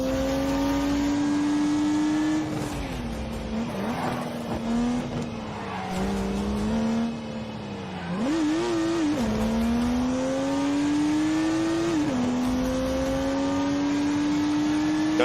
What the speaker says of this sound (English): unleashed 365 rampaging horsepowers from the turbocharged 3-litre straight 6